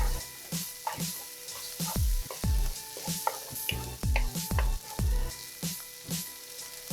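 Vegetables for shrimp fried rice sizzle steadily in a hot pan, with repeated scraping and tossing strokes from stirring rising over the constant frying hiss.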